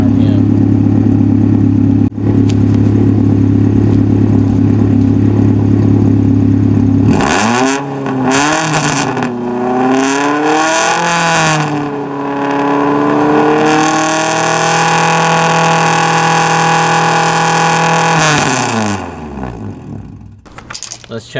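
A car with a loud, droning exhaust idles steadily, then revs up in several rising and falling surges before holding a high, sustained roar near 5,000 RPM and dropping back; close and loud throughout.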